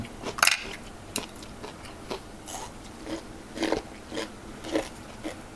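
Crunchy bites into crispy sweet dried fish, several sharp crackling bites and chews spaced through the clip, close up and moderately loud with no talking.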